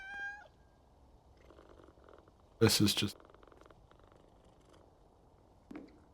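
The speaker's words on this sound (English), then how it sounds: "That's a cat." A cat in the video game Powerwash Simulator 2 purrs in a short loud burst mid-stretch, with a faint squeak early on and someone talking quietly around it.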